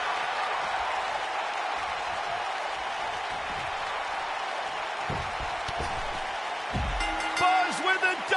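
Arena crowd noise from the wrestling video game WWE 2K19, a steady broad roar of cheering spectators throughout, swelling slightly near the end with some brighter shouts and clatter.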